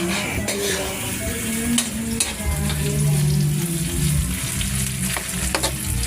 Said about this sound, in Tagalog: Ayan, start na magluto guys ng carbonara.